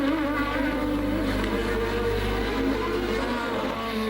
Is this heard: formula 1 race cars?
yes